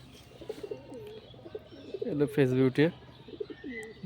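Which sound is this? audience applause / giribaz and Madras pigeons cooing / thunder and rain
giribaz and Madras pigeons cooing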